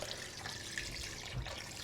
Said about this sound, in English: we're going to add some cold water